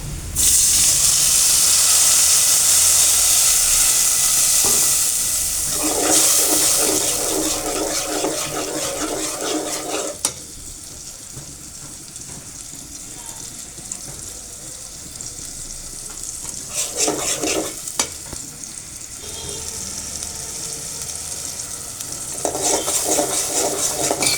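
Spices fry in hot oil with a loud, hissing sizzle that swells and drops as they are stirred, broken by sharp scraping strokes against the pan, close up and with no talking.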